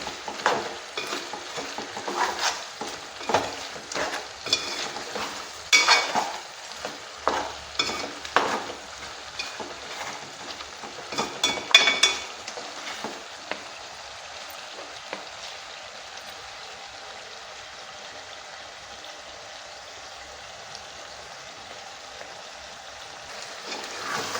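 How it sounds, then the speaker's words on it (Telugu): Chicken sautés with ginger garlic paste in a pan for chicken pulao, with scraping stirs and crackling bursts over a soft sizzle during the first half. The sound then settles into a quieter, even hiss. No voices are heard. "ఇలా మొత్తం ఒకసారి కలిపేసుకుని మళ్ళీ పచ్చివాసన పోయిన దాకా అల్లం పెళ్ళిళ్ళు వేస్ట్ వేసి మగ్గనిద్దాం కొంచెం"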